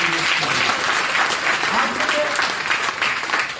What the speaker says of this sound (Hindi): एक बार जोरदार तालियां बजनी चाहिए